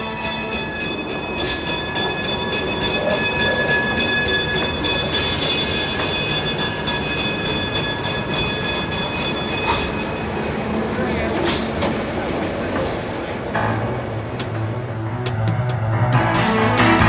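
A Pikes Peak cog railway train starting down toward the depot, a continuous rumble and clatter of the railcar on the rails with a few bells ringing, some squeal and a voice narrating over it.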